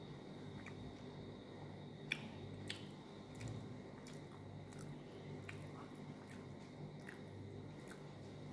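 Food being chewed and bitten during a food review, soft wet squishy bites recurring at a slow irregular pace, faint and close over a low background hiss.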